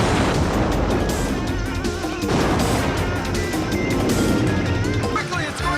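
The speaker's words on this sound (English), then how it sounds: "Excessive explosions for no reason." Loud action-scene explosions and crashes from the 1991 Tarzan TV series, dense and continuous with repeated bursts and rumbling debris across the whole stretch, with some voice mixed into the chaos.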